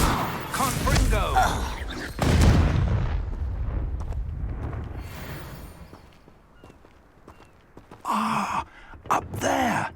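Confringo blasting spell in Hogwarts Legacy, a fiery burst with a crackling, whooshing impact that booms loudly and trails off, followed later by grunting and gasping voices amid further blasts.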